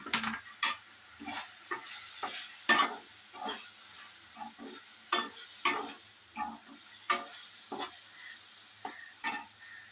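Spiced mixture with chili powder and turmeric frying in a pan, a low sizzle under repeated rhythmic scrapes of stirring every second or so, close by and with no talk.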